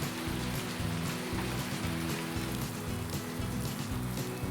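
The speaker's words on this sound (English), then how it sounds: "Oh god, it's starting to rain already." Steady rain falls in the farming video game Farming Simulator 2019, a dense, even hiss with a low rhythmic rumble beneath it throughout.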